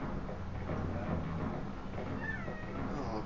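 A cat meows indoors amid a steady low hum, its calls drawn out and fairly clear.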